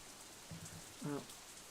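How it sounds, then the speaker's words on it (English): Rain patters on an umbrella in the visual novel Katawa Shoujo, a soft, steady hiss of drops with a couple of brief tonal chimes rising over it. "Raindrops hitting the umbrella makes a distinctive sound, playing the staccato melody of rainfall"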